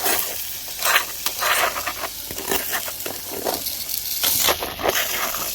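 Nutella and banana toast sizzling and crackling in a hot pan, a steady close hiss with scraping stirs and small pops, no voices.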